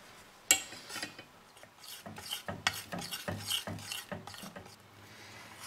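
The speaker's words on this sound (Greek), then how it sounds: "θα ανακατεύουμε τη σοκολάτα μετρώντας συνεχώς τη θερμοκρασία της" Dark chocolate stirred in a small pot while tempering: steady scraping and rubbing strokes of a utensil against the pot, repeated in an irregular rhythm, close and fairly quiet, with one sharp clink near the start.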